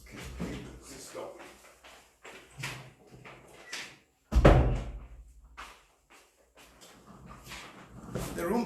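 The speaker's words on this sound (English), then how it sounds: "Let me close that door." An indoor door closes with a single firm thud partway through, heard under ongoing talk as people settle into a room for an evening gathering.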